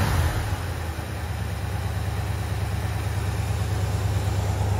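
A 1965 Chevrolet Malibu's L79 V8 engine idles at about 950 rpm in cold weather, with a low, even rumble that holds constant throughout, fairly close and without any revving.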